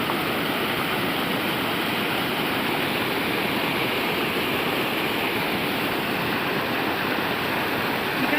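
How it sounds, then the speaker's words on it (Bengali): Water rushes past at Rondia dam in Panagarh, a steady, even roar of current that carries on without a break and with no talking. "বন্ধুরা জলের স্রোতটা একবার দেখো শুধু, জল যাচ্ছে একবার দেখো শুধু।"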